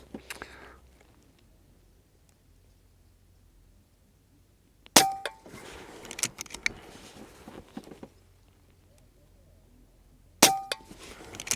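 Air rifle firing Express pellets at a target: two sharp, loud metallic clangs several seconds apart, each followed by a short clatter, with near silence in between.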